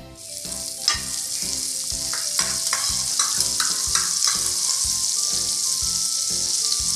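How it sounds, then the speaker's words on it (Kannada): Amul butter melting in a frying pan for a bread sandwich, crackling in a dense, close sizzle with repeated spatula taps and scrapes throughout. "ಅಮುಲ್ ಬಟರ್ ಹಾಕಿ"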